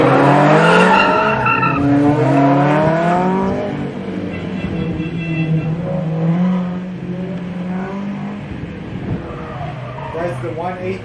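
Car in a gymkhana event skids through a handbrake 180-degree turn around a pole, its loud tire squeal rising and sliding over a revving engine, under a commentator's voice.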